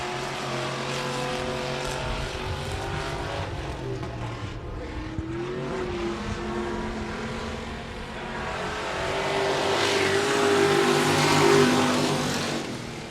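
Race cars go around the oval at 105 Speedway during a regular race program, late in the feature with a few laps to go. The engines roar continuously and swell louder toward the end as the pack passes close by.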